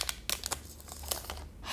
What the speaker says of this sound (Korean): 비닐을 벗긴다는 얘기죠